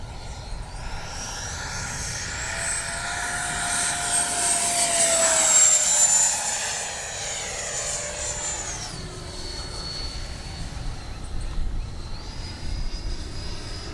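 FMS 80mm F-86 RC jet making a low, fast pass: a rising ducted-fan whine swells to a loud peak as it passes close, then the pitch drops and fades as it flies away, with no talk.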